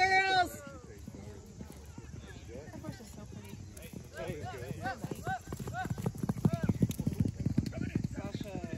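Horse hooves clip-clop on hard ground in a steady walking rhythm at an outdoor fun day, moderately close, under frequent encouraging talk from a woman.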